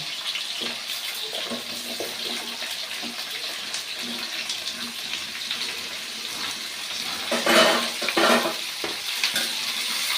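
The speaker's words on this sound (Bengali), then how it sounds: "দিয়ে একটু ভাজা ভাজা করে নেবো" Sweet potato and malabar spinach stems fry in oil in a pan, making a continuous moderate sizzle, with a brief louder burst of crackling and stirring near the end and no speech.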